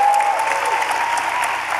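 Audience applause at a live talk event, loud and steady, a dense wash of clapping filling the whole stretch without a break.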